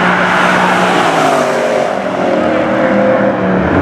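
Two drag cars, an Izzy Performance Chrysler 300 against the Against Da Grain Camaro, run close by in a loud, steady engine roar that drifts in pitch as they accelerate down the strip, with no voices over it.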